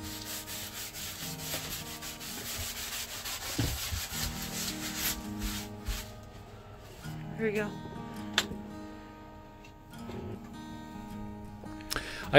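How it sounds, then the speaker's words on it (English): Belt sander thinning coosaboard for a boat deck core replacement, a steady rubbing, grinding drone with brief pauses and shifts in pressure, heard beneath someone speaking. "It goes quickly with a belt sander."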